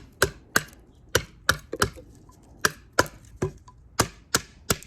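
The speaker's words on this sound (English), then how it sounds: "Let's chop those off. Man, just eating into that wood." Gen 1 Puzon Wilderness Bowie knife chopping into wood, a dozen sharp, loud strikes landing at an uneven rhythm, each a crisp woody thunk with splintering, no voices.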